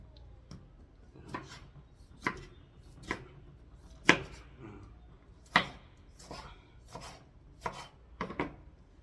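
Tomatoes being chopped on a cutting board while paksiw fish in tomato is prepared outdoors, about a dozen sharp knife strikes landing in an uneven rhythm, close and fairly loud, with no talk.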